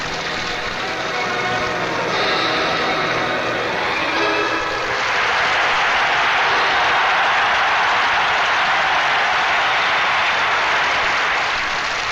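A standing ovation from a crowd of 18,000 after Don Jackson's 1965 ice skating performance: loud, sustained applause and cheering that swells halfway through and fills the arena as a dense, continuous roar.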